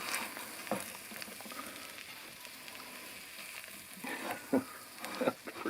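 Quail eggs and a small sausage fry in a pan at an off-grid log cabin, giving a faint, steady sizzle with occasional louder pops and spatters.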